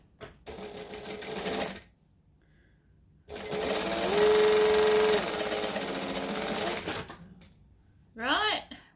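A domestic sewing machine stitches fabric to a facing, running in two loud bursts with a short backstitch pass and a brief whirr at the end, with pauses between runs.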